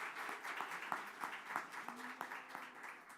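Applause from a small audience at a university celebration dinner, fairly faint and sparse with distinct individual claps standing out over a few seconds, a voice briefly audible in the background.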